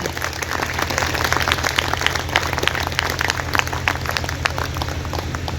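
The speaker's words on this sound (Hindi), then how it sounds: "इस शुभ घड़ी के लिए अपने लिए जरूर तालियां दिल से बजाएं" An audience at an annual spiritual festival in Palavpuram, Meerut applauds together, a dense, steady wash of many hands clapping at moderate loudness over a low steady hum, with no talk.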